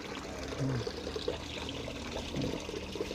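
Water pours and splashes steadily into a cement fish pond as catfish are released, a close, continuous gushing and sloshing with brief louder surges.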